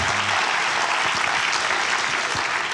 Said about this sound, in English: Let's give another round of applause to all 9 presentees